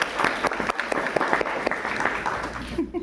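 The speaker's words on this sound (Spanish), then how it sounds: "Un aplauso, por favor." Audience applauding at a medical conference session, a steady dense patter of many hands clapping at moderate loudness, fading out near the end.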